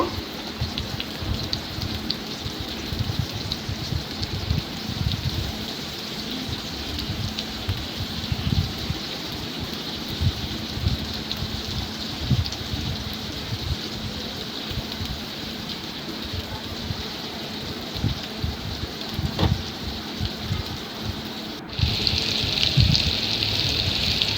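Sliced potol (pointed gourd) fries in a pan with a steady, close crackling sizzle like rain on a surface, holding evenly throughout and briefly brightening near the end.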